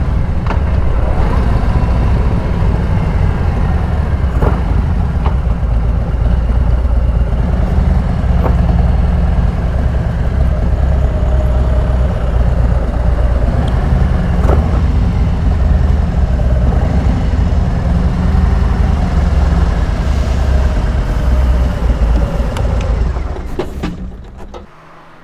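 A Harley-Davidson motorcycle rolls into a dealership lot after a run on the Le Mans 24 Hours circuit, its engine rumbling loud and steady with a low, continuous drone before cutting off near the end.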